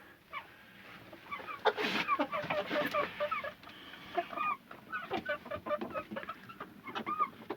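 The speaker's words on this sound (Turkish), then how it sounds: "Horozumuzu köyden yeni getirdik ama bu biraz dövüşçü" Chickens and a rooster cluck and squawk in short irregular bursts in a backyard hobby garden coop, fairly close, with a busy coop atmosphere and occasional louder calls.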